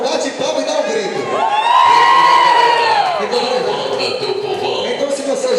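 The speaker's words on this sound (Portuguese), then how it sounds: "bate palma e dá um grito" Nightclub crowd at a comedy show yells and whoops together in a loud surging cheer, with a voice over the top and general crowd noise.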